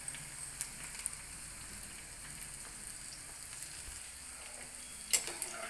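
Small shallots frying lightly in oil, a steady soft sizzle with occasional light stirring clicks and one sharper clink near the end, close and fairly quiet, no voices.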